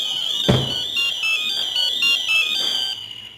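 A Ford Transit Custom van alarm blares a steady high-pitched tone with a rising and falling warble, repeating continuously, with a single thud near the start.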